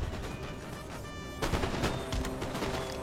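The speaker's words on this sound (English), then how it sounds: "Come on, garrison militia, start firing back." Militia gunfire in a strategy video game, a dense rattling volley of many overlapping shots with sharper cracks standing out, steady and continuous throughout.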